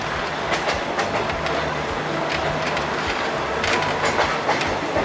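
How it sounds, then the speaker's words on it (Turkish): A train in Thailand rolls past very close to houses, its wheels clattering rhythmically over the rails in a steady, loud rumble. "Tayland'da o kadar yakın ki tren evlerin dibinden gidiyor"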